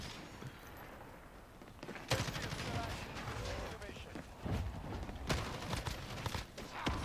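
Gunfire in a shooting video game: bursts of rapid shots and sharp single cracks under a busy, mid-level game mix, with no talk over it.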